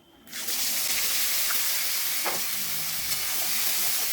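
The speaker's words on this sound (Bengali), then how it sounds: "তো আমি 4টে পেঁয়াজ কুচিয়ে রেখেছি এভাবে, তো ওই তেলের আমি দিয়ে দিলাম" Four chopped onions dropped into hot oil spiced with cinnamon, clove and cardamom for a dhaba-style egg curry, erupting into a loud, steady hiss of sizzling that holds strong for several seconds, close up with no talking.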